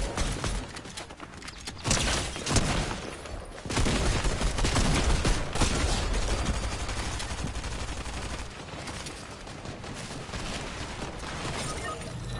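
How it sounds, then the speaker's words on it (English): Rapid bursts of gunfire crackle in the Fortnite video game, dense volleys of shots with a loud stretch in the middle, then a steadier, slightly quieter barrage, with no talk heard. "I'm getting shot at really bad."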